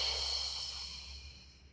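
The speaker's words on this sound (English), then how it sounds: "And breathing out." One long, soft exhale during a beginner pilates exercise, a steady airy breath that slowly fades out, heard close and without talk.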